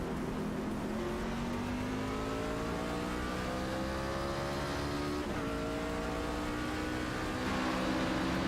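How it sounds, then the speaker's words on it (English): A race truck engine at Texas heard from the in-car view in iRacing, droning loud and steady with rising and falling whine as it revs through gears, with no voices. "We'll go ahead and lower the in-car audio."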